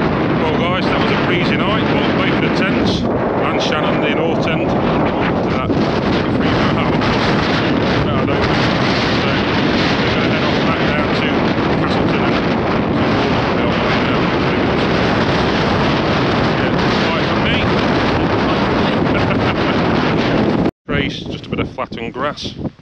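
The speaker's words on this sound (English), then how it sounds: "It's very gusty here." Strong, gusty wind batters a hilltop in the Peak District, roaring continuously and buffeting the microphone for the whole stretch before a sudden brief cutoff near the end; a voice is also heard.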